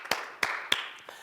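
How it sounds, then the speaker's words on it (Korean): Congregation clapping during a worship service: a few sharp, evenly spaced claps ring out close and clear in a short burst. "우리 하나님 영광의 박수를 올리겠습니다"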